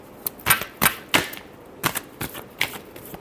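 Tarot cards being shuffled for a Cancer sign reading, a series of about eight sharp, crisp riffling snaps spaced irregularly over a few seconds, close and fairly loud with no talk.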